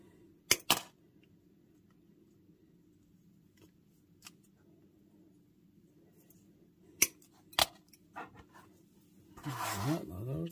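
Plastic flash being snipped off a model kit part for a Studio Series 86 figure upgrade, with two sharp close clicks early and two more later, then a brief rustling at the end.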